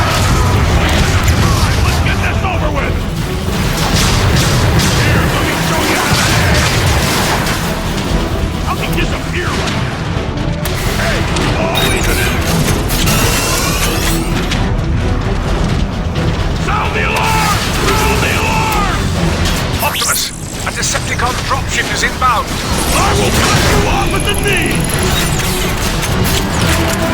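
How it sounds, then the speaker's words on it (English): Artillery strikes rain down in Transformers: Fall of Cybertron, a continuous barrage of heavy booms and crashing impacts layered with mechanical clatter and game effects. Dense and loud throughout, with a brief dip near the end. "artillery strike on that dropship"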